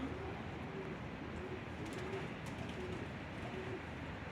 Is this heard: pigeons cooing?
yes